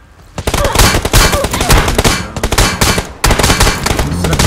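PUBG gunfire is played on an iPad 9: loud rapid bursts of automatic shots continue almost without pause, broken by one short gap before the firing resumes.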